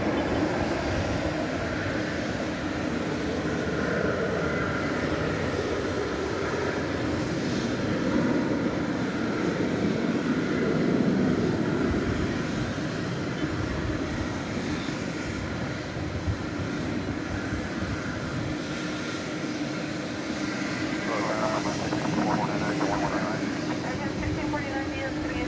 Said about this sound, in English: So the big plane off to Anchorage.